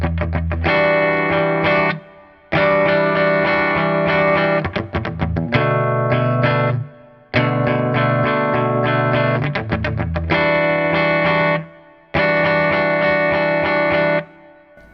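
A palm-muted electric guitar with distortion and chorus effects plays a riff, loud, in chugging repeated phrases separated by short gaps, with no voices.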